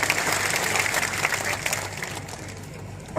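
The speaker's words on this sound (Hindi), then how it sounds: "तो तैयार है तो ताली बजा दीजिए, मान लें तैयार है" A rally crowd at a public meeting in Thikri, Barwani district, gives dense, steady applause that fades slightly toward the end.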